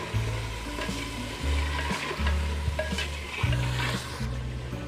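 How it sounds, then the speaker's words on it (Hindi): Spiced mutton nihari masala with salt sautéed in a pot, a steady close sizzle with repeated scraping stirs of a spoon against the pot, no voices. "और अब हम इसको फिर से भूनेंगे अच्छी तरह से।"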